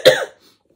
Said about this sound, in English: I am coughing because my nose is congested